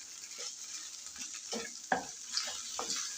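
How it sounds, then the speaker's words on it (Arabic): Pasta, tuna and other ingredients in red sauce being stirred together in a pan, soft wet scraping strokes at intervals over a faint sizzle, quiet and close. "هنا كنضيف المكرونه وكنخلط الكل"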